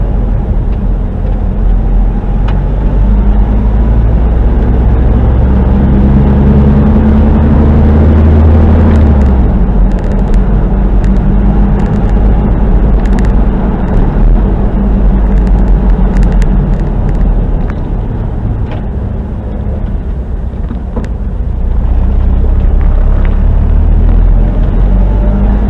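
A 30-year-old Jeep Comanche truck drives and shifts through its gears, a steady loud engine rumble with rising and falling tone between shifts, heard close from inside or near the cab, no talk.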